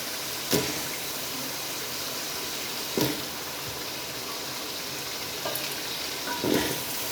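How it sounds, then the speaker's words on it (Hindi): Steady broadband sizzle of potatoes frying in a pan, with a few sharp clinks or stirs at intervals, no voices. "दस से 15 मिनट के लिए हमारे आलू भून जाए।"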